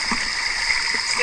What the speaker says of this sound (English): Sticky waterfall.